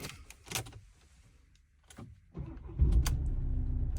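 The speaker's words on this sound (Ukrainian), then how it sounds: "Машинка заводиться." A car is started with another newly made key, with faint clicks and handling noises first, then the engine cranks and settles into a low, steady idle close by.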